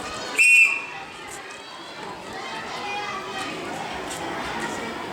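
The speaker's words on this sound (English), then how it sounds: "give the whistle again" A sharp whistle is blown once, short and loud, at a children's sports day, then gives way to a steady wash of distant children playing and chattering outdoors.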